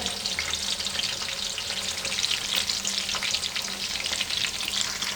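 Onions frying in oil for kofta gravy, a dense, even sizzle with crackling pops and occasional stirring scrapes, close and continuous with no talk.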